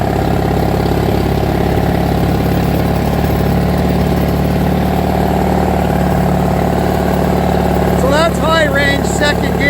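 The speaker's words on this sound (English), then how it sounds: "Second gear with the engine revved up." A 1959 International Harvester B275 truck engine runs revved up in second gear while fighting the brakes, giving a loud, steady low roar throughout with a faint rough unevenness. A voice breaks in briefly near the end.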